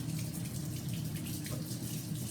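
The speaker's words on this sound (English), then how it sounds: "It doesn't hurt it to run the cool water on it, cool it down, and get that stuff cleaned off." Cool tap water runs steadily over a hot pan in a kitchen sink, a continuous close splashing hiss.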